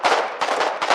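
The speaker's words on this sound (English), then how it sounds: "2 grenadiers popped off. That's about 10 grenades" Grenades exploding in the war video game Foxhole, three loud, close blasts in quick succession within a second, each a sharp burst with a noisy tail.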